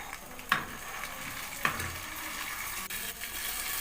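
Curry leaves and Kashmiri chili paste frying in oil for a pearl spot fish curry, with a steady low sizzle and a couple of sharp stirring clinks or pops close by.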